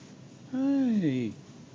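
A house cat gives one long, clear meow with a rising then falling tone, close by and loud, surrounded by a short quiet stretch.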